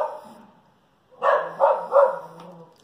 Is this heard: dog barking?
yes